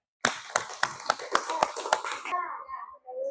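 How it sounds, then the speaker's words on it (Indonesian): Children in a classroom applaud a student group, a short burst of about eight sharp, evenly spaced claps close by, fading into brief child chatter. "Kita kasih aplaus untuk kelompok 3."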